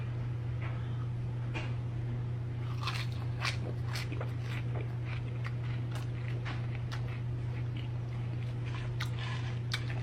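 Crunchy fried chicken is bitten and chewed close to the microphone, with irregular crisp crunches over a steady low hum and no talking.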